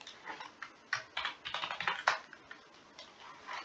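Computer keyboard typing for writing in a Minecraft book and quill: quick, light clicking keystrokes in short irregular bursts, close and fairly quiet, with no voice.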